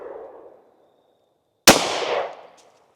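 Single Glock 31 pistol shot firing a 357 SIG Hornady Critical Duty 135 grain round: a sharp, loud crack, close by, followed by a short decaying echo, preceded by a brief faint outdoor noise.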